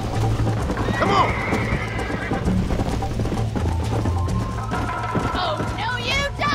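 In the Red Dead Redemption video game, a horse gallops with rapid clip-clop hoofbeats while it whinnies and neighs loudly, all under in-game music and voices talking over the action.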